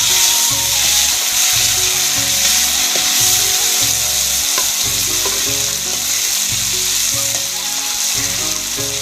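Potatoes fry in hot oil with onions for aloo saag, producing a loud, continuous close sizzle with a rhythmic low thumping of stirring beneath it.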